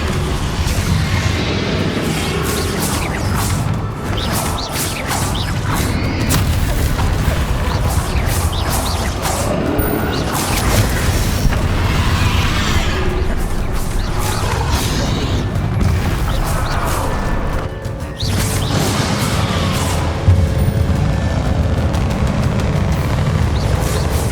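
Hogwarts Legacy combat rumbles with repeated Depulso spell blasts, loud booming bursts over a dense, continuous layer of game effects and impacts.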